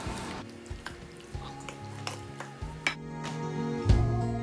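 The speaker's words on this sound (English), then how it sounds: "let's just give this a little bit of a stir so that all of the spices are well mixed" A spoon stirs spices into a raw chicken marinade in a bowl, making light repeated clinks and scrapes against the dish at an uneven, unhurried pace.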